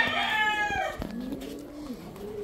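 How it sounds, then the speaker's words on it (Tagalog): Cooing and warbling calls from an ice pigeon in a backyard loft, a few drawn-out rising and falling notes close by, with no talking. "Ang aking ice pigeon,"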